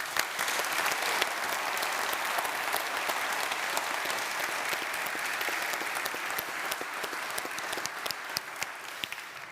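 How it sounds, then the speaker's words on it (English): An audience at an annual Federal Reserve and central bank meeting applauds, dense and steady clapping that fills the room at full volume for the whole stretch without pause. "May I get an applause, please?"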